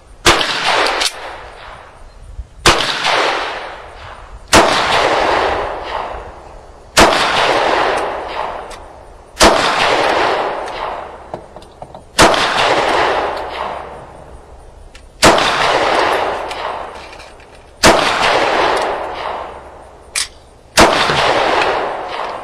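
Ruger LC9 pistol firing USA-brand ammunition, nine loud, sharp single shots spaced a few seconds apart, each with a short echoing decay outdoors and no talking.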